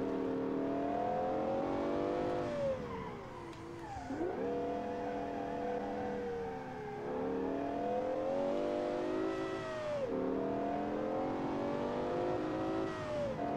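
A mid-engine 1990s supercar in BeamNG revs hard and steadily. The engine note climbs and falls through repeated gear changes, with a dip near four seconds. It stays loud and close the whole time, with no talk over it.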